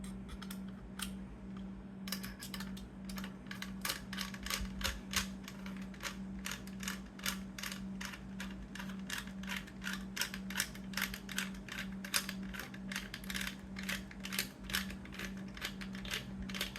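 Bolts tightened on an OSSM machine during assembly, a long, steady stream of rapid ratchet-like clicks at close range over a faint constant hum, with no talking.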